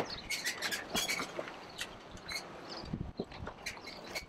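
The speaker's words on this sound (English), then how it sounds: "and the chirping of the birds" Birds chirp outdoors at an opening ceremony on Maui, with scattered high tweets and short calls repeating through a soft background of rustle and ambient noise, no speech.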